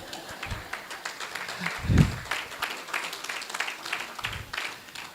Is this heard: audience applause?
yes